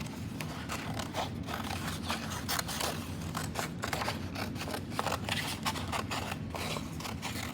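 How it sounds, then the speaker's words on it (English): Scissors snipping through paper to cut a zigzag, building-shaped silhouette, a continuous series of small, close, crisp cuts and rustles at a quiet level, with no voices. "Think about like you're cutting rectangle shapes."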